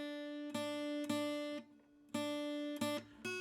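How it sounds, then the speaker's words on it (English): Guitar in Nashville tuning, using only the high strings of a 12-string set, rings out in bright, shimmering strummed chords, several strikes with a short pause midway, close and clear without talk. "the Nashville tuning is just the high strings from a 12-string guitar on its own"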